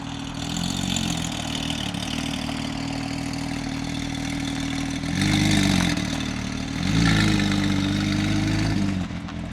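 Straight-piped Porsche 992 GT3 RS engine idling loudly, then revving twice in sharp, rising bursts before settling back, close and alone with no talk.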